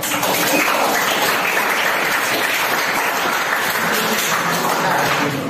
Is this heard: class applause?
yes